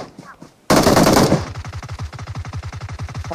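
Automatic gunfire in the mobile shooter game BGMI bursts in loudly as a dense volley, then settles into a rapid, evenly spaced stream of close shots.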